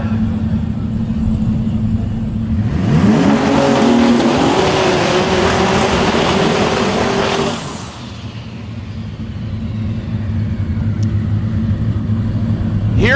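Drag racing cars at a DCT World Cup event launch and accelerate down the strip, a loud roaring engine surge building then fading as they pull away, over crowd and track ambience.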